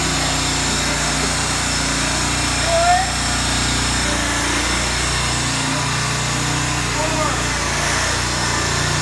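A Georgia buggy, a small engine-powered motorized concrete cart, idles steadily after a restart, a loud continuous small-engine drone running throughout with no break.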